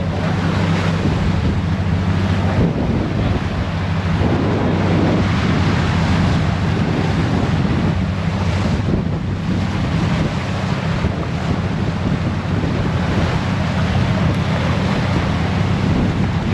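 Strong wind and surf at sea off Siargao just before Typhoon Aghon makes landfall, a loud, steady roar of waves with heavy wind buffeting the microphone throughout and no voices.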